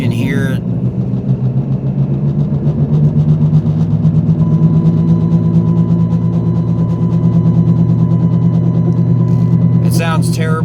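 Wheel-area noise from a 2008 Dodge Avenger with a suspected bad wheel bearing, a steady droning hum with a rhythmic growl that holds continuously while driving, close and fairly loud.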